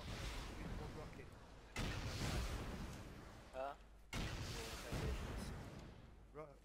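Rockets and explosions go off during a base raid in a survival video game, two loud booming blasts each followed by a long decaying rumble, with brief voice fragments between them.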